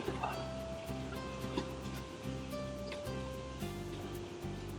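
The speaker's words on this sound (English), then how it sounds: "Just going up a creek." A stock Jeep Rubicon driving up a creek on a Kentucky trail ride, water splashing and sloshing steadily around the tires under a continuous engine rumble, close and fairly loud.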